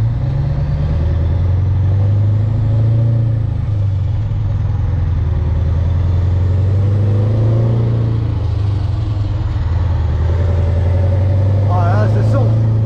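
A Scania V8 truck engine rumbles with a deep, steady low drone that swells as it pulls and revs, loud and close throughout, while someone talks over it.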